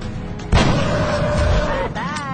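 Gunfire in the turn-based strategy game XCOM: Enemy Unknown, a sudden loud blast followed by a sustained rumbling, ringing tail lasting over a second, then a softer electronic whine at the end.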